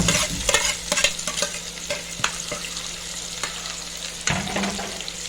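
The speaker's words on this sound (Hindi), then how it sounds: "ये हम लहसुन डाल रहे हैं और हम प्याज डाल रहे हैं इसमें।" Garlic and onion frying in a pan on low heat for a wild mushroom dish, with steady soft sizzling under repeated scraping and stirring clatter, close and moderately loud, no talk.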